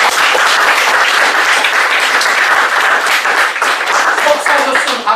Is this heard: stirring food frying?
no